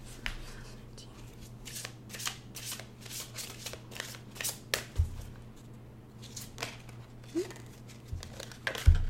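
Tarot cards shuffled by hand in a run of crisp riffles and soft flicks with irregular pauses between bursts, close and fairly quiet, over a low steady hum.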